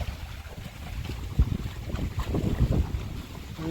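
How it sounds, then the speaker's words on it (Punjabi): Strong gusty wind blowing outdoors beside an eroding gully as rain approaches, a steady loud rush buffeting the microphone with rumbling low gusts. "ਹਵਾ ਬੜੀ ਚੱਲਣ ਦੀ ਹੈ ਜੀ ਤੇ بارش ਦਾ ਮੌਸਮ ਬਣਿਆ"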